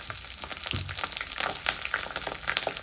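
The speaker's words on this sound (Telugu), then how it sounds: "చూశారు కదా ఎండుమిర్చి చక్కగా ఫ్రై అయింది" Dried red chilies, cumin, mustard seeds and small onions fry in hot oil, crackling and popping with bright, busy sizzle bursts that rise and fall over a couple of seconds, with no talking.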